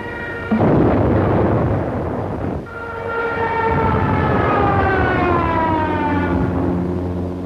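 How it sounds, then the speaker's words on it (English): An air raid siren wails loudly during a German bombing raid on Yugoslavia at dawn on April 6, its tone slowly falling and rising over a heavy rumbling roar. A sudden loud onset opens the sound and a second surge follows a few seconds later. "German bombs told the Yugoslavians they were at war with Germany"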